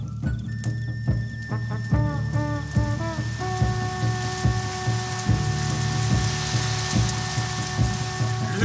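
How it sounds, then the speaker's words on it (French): Cartoon rain falls steadily with a dense hissing patter and scattered louder drops, accompanied by sustained musical tones, with no talking. "Maintenant, la pluie va venir et va éteindre le feu."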